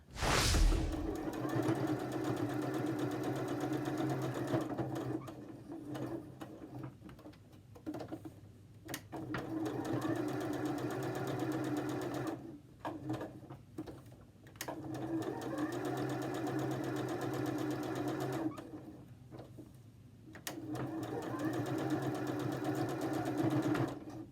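Sewing machine top stitching around fabric face wipes, a steady mechanical whir running in several long bursts with brief pauses between them, close and moderately quiet.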